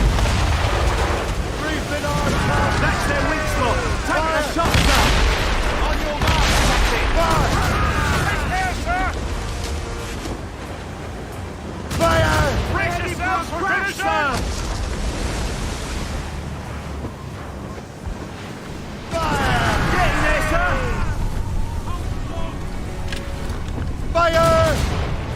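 Naval cannon fire during a ship battle in Assassin's Creed Rogue, heavy booms rolling over constant ocean surf and wind, with shouted voices breaking in at intervals.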